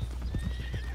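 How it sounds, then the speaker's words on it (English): A horse in the video game Red Dead Redemption 2 clip-clops with quick, even hoofbeats at a trot, close and moderately loud over a low ambient hum. "Slow down, horse."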